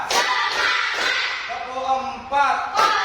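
Children in a classroom clap in rhythm during a counting clap game, sharp group claps mixed with voices calling out.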